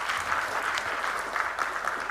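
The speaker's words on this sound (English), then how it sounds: "why don't you clap for yourselves?" A crowd of young people at a national ICT job fair launch on International Youth Day claps for themselves, continuous dense applause at a steady level throughout.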